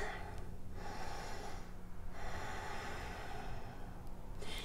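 Slow, deep breaths of someone holding a seated yoga forward fold (paschimottanasana), near and gentle, three or four long airy inhale-exhale cycles over a faint steady hum, with no talk.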